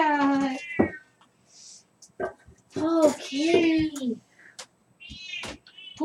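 A cat meowing repeatedly during a home pottery session, several drawn-out, loud, close whining meows with short gaps between them, and a person briefly speaks.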